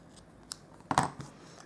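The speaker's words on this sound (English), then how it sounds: "I am going to snip off the excess linen thread" Scissors snipping excess linen thread while making a paper card, one faint snip then a sharper close cut, quiet and near with no talk.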